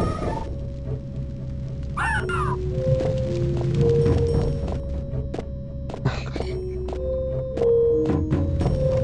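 Chirping birds in the video game Daggerfall, a few short warbling bursts popping up over steady droning game music, with a brief voice heard as well.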